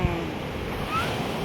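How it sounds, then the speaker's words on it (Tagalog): Gentle sea waves wash at a crowded beach on a calm day, a soft steady surf roar mixed with light wind rumble against the microphone, no speech. "maganda ang dagat. Hindi siya masyadong maalon."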